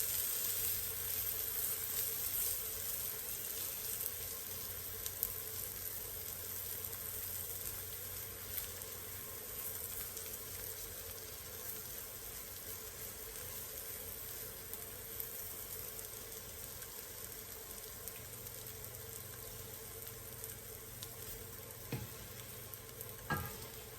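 Eggs sizzle steadily in a frying pan, a continuous close crackling hiss with occasional small ticks, no talking.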